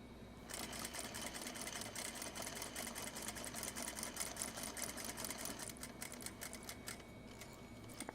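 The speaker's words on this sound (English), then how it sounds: "We're gonna sew across here." A sewing machine stitches across a purse scarf with a rapid, steady mechanical chatter of needle strokes, close and continuous, briefly easing before running on.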